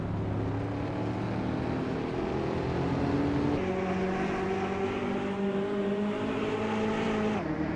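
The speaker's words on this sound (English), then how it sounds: "the vintage slow cars are revving up" Vintage race cars, among them a 1953 Fiat Abarth Supersonic, rev their engines at a race start, a steady droning of several motors with shifting pitch, moderately loud and continuous throughout, without talk.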